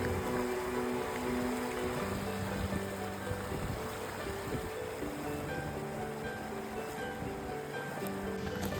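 Rain-fed seasonal stream near the Pench river, India, flows in a steady broadband rush that stays constant throughout, with a low tonal hum underneath and no voices.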